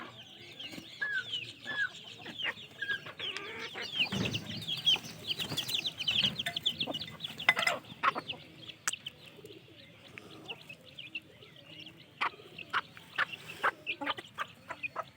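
Chickens shut inside an enclosure cluck and cackle in irregular bursts, close and fairly loud, with some sharp knocks between calls.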